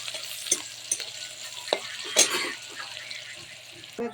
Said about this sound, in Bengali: ওতেই লঙ্কা রসুন পেঁয়াজটা ফোড়ন দিয়ে দেবো